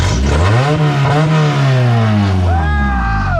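A Honda H22-swapped car engine idles roughly and revs up and down, loud and close, with the pitch rising and falling in sweeps and voices underneath.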